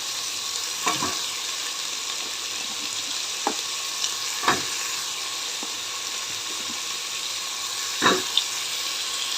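Round-cut radish pieces being stirred in a pan, a soft continuous sizzle broken by a few sharp spoon scrapes and clinks against the metal, close and without any talking.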